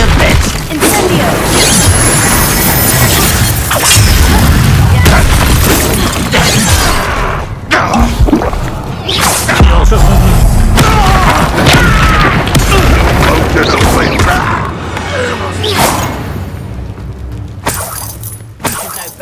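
Repeated Bombarda blasting-spell explosions in the Hogwarts Legacy video game, loud booming blasts with crashing, shattering debris amid dense combat effects throughout.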